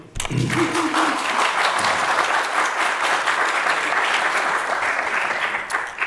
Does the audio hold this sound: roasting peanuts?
no